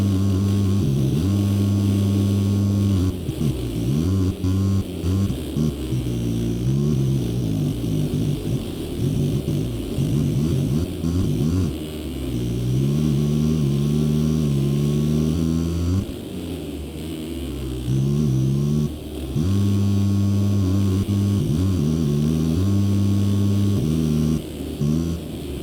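A 2017 450 FC motocross bike engine sound mod in MX Simulator at a Seattle supercross round, loud revving that climbs and drops repeatedly with gear shifts, steady and close for the whole stretch, no talk.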